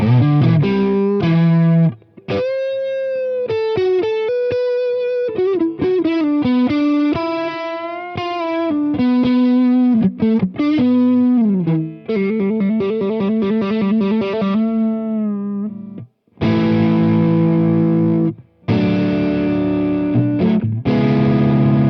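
High-gain distorted electric guitar through an amp plays loud, fluid melodic lead lines with bends and fast runs, then chunky chords, with brief gaps between phrases and no talking.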